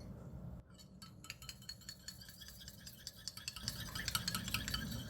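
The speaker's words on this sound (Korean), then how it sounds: "그런 다음 이 계란을 풀어줄 거예요." Light, rapid clinking and tapping of a utensil against a bowl of eggs with a little water, quiet and close, quickening into brisk rhythmic whisking toward the end.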